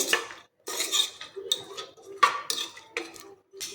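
A spoon scrapes and clinks against a pot in repeated stirring strokes, mixing whole moong beans with water, with brief pauses between, close by and fairly clear.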